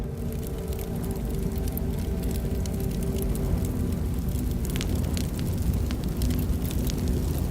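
A forest fire burns with a steady, dense roar of flames and scattered crackling pops. The roar holds evenly throughout, with no voices.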